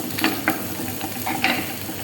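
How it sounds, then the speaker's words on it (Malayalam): Onion and garlic sautéing in butter in a pan, a steady soft sizzle with a few sharp spatula scrapes and stirring taps. "കുറച്ച് വെളുത്തുള്ളി, ഇതൊക്കെ കുറച്ച് നേരം നല്ലതൊന്ന്"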